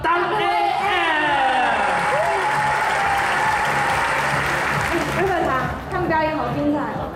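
An audience at an international expo stage show breaks into loud, sustained applause with some cheering, while a host's voice carries over the clapping.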